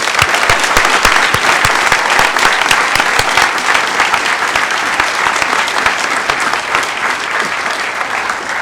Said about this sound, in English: So I want to give a great, big applause to Emmanuel and everybody at Hope